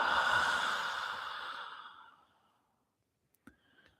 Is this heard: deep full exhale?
yes